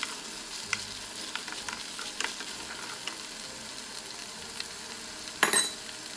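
Chicken afritada with tomato sauce frying in a pan, a continuous soft sizzle with scattered scraping stirs and a louder clatter near the end.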